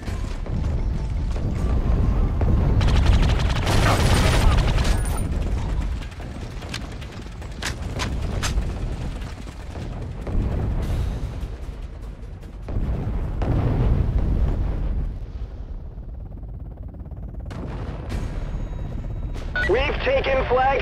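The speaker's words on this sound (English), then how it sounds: "Artillery strike is inbound." Artillery strike explosions from the video game Battlefield 2 Modern Combat, with a dense rumble of booms and gunfire throughout. Radio-style voice announcements play over the battle.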